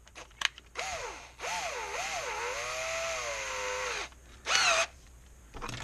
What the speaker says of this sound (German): spannt den Bohrer in den Akkuschrauber